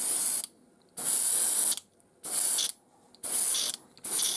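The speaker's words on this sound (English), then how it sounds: "That's the sound of an empty airbrush." An empty airbrush sputters in four harsh, hissing bursts separated by short silences, close to the microphone.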